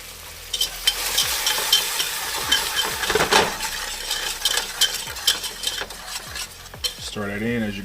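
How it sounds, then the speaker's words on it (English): Chicken broth sizzles and crackles as it is stirred into a hot butter-flour roux, with a utensil scraping and clinking against the pan in close, busy bursts, ending with a brief pour. "It's gonna sizzle, that's okay."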